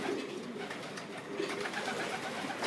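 Pigeons or doves kept in cages coo softly and repeatedly over a steady background hiss, with no talking, at a fighting-bird gathering.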